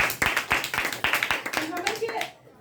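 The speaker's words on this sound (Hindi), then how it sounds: "जोरदार ताली।" Loud applause from a group at a business testimonial gathering, rapid dense clapping sustained for about two seconds before cutting off, with a brief voice sounding partway through.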